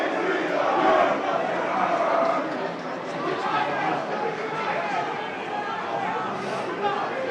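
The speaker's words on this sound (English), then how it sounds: "Plenty of energy in the crowd this evening here at Loftus Road" A rowdy home crowd at Loftus Road during a Queen's Park Rangers Academy versus Swindon Town Academy football match gives a steady, dense roar of chatter and shouting that holds at one level for the whole stretch.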